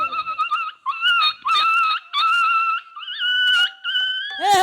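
A dog close by lets out a run of high, strained whimpers and yelps, repeated in quick bursts with a short bark at the end, and no talking over it.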